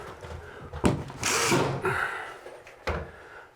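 A screw gun driving screws into drywall during a bathroom remodel: a short whirring burst with a few sharp knocks and clacks around it, close but fairly quiet.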